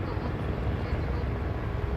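Helicopters fly around a busy cruise ship port in Alaska, where speedboats are also out. A steady low rotor rumble drones on throughout, fairly distant and continuous.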